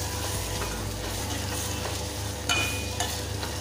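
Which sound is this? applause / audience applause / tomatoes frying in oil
tomatoes frying in oil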